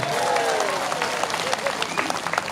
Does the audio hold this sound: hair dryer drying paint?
no